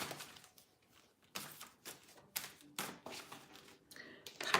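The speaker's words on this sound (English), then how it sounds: "so shuffle them correctly" Tarot cards are shuffled by hand in quick, soft riffling bursts separated by short pauses, close and fairly quiet.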